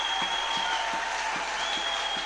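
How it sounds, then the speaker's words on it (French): A church congregation claps in unison to praise the Lord, a steady rhythm of sharp hand claps about every half second over a constant crowded room tone. "Clap the Lord again."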